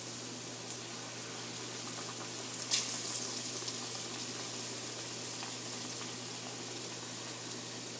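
Vada batter frying in hot oil for dahi vada, a steady soft sizzle and bubbling throughout with a brief louder crackle near the middle, no talking.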